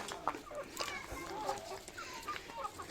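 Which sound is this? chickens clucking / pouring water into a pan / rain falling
chickens clucking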